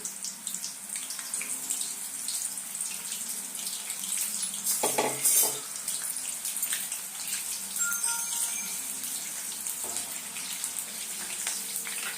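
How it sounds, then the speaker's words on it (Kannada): Eggplant (brinjal) fries in hot oil, a steady hiss with fine crackling that swells into a louder spattering burst partway through, then settles back to an even sizzle. "ಇದರಲ್ಲಿ ಬದನೆಕಾಯಿನ ಫ್ರೈ ಮಾಡ್ಕೊಂಬಿಡೋಣ ನಿಧಾನಕ್ಕೆ ಸಿಡಿಯುತ್ತೆ"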